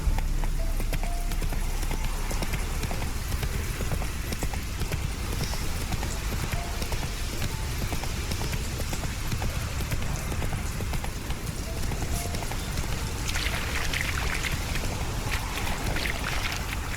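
Horse Roach's hooves clip-clop steadily in The Witcher 3, a continuous rhythmic trot under ambient wind and outdoor background noise, with no voices.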